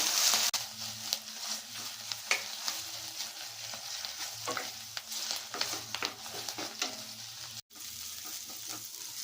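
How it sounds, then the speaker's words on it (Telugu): Fenugreek leaves and curry leaves fry in hot oil while being stirred, giving a steady close sizzle with scraping stir strokes and one brief break near the end. "ఇదే ఆయిల్లో మెంతెం కూరని వేసుకొని కొద్దిగా కరివేపాకుని కూడా వేసుకొని వేయించుకుందామండి."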